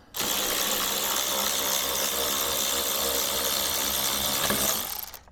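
A Milwaukee power tool runs steadily for about five seconds while backing out a reused 10mm factory bolt on a Tesla Cybertruck bumper, a loud continuous whirring ratchet sound that cuts off abruptly near the end.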